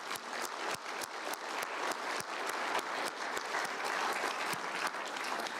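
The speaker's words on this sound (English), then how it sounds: "Let's just give a round of applause for all the hard work it took to create those things." A St. Croix County GOP caucus crowd gives sustained applause, a steady patter of many hands clapping at moderate volume from start to finish.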